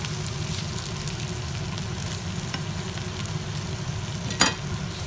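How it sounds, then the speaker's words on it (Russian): Sausage and lavash frying in a pan while being stirred, a steady close crackling sizzle with faint utensil scrapes and one sharper clatter near the end. "Перемешиваем и даем ей немного обжариться."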